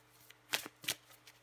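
Tarot cards being shuffled, a few quiet riffling bursts in quick succession against a faint hum.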